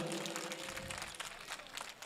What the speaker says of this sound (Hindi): आप लोग ज़रा एक बार ताली बजा के इजाज़त दे दें सब लोग।